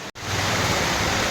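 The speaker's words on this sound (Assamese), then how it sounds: "একদম ধাৰাসাৰ বৰষুণত জিকি যাব" Heavy downpour of rain makes a loud, dense, steady hiss that drops out for an instant at the very start, then continues without a break.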